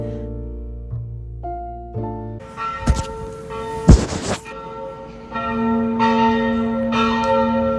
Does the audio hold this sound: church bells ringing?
yes